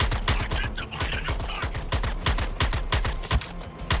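Rapid bursts of gunfire from shooting an enemy in Suicide Squad: Kill the Justice League, loud sharp shots in a fast irregular rhythm with brief pauses, close and continuous throughout.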